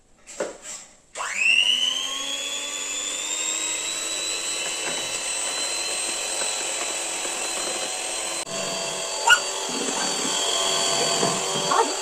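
Electric hand beater whipping three raw eggs for a cake batter, a steady high whirring motor drone that starts after a brief stop-start and runs continuously, close and loud, with a slight clatter partway through.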